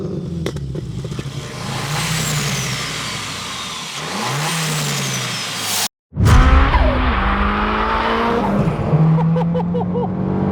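A big-turbo MK1 Audi TT Quattro with a valved exhaust pulls hard on boost, its engine note rising through the revs, cutting out briefly at a gear change, then climbing loud and close again with turbo whistle.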